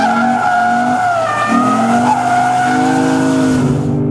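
Tires squeal steadily through a long oversteer drift in a 2015 BMW M4 or 2015 Lexus RC F, a loud continuous skid with shifting pitch and engine drone beneath, no talking.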